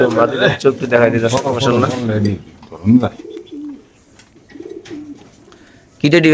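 Pigeons at a market stall coo in soft, rolling low calls, several repeated in the quieter middle stretch, while people talk loudly nearby at the start and end.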